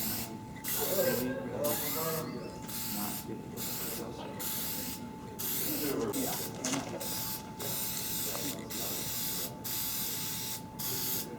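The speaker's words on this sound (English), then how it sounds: "You see how the absolute lack of coverage for the spray paint makes it perfect for this application?" Spray paint hissing from an aerosol can while a haunted-attraction set piece is painted, heard as a string of short bursts separated by brief gaps, fairly close, with a faint steady tone and some voices in the background.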